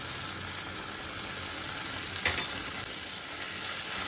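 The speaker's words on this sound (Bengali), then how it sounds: "সামান্য নেড়ে চেড়ে আমার তরকারি এবার রেডি" Pumpkin curry simmers and sizzles softly in a pan with water and sugar added, giving a steady, faint frying hiss and one brief scrape of stirring partway through, close and without talk.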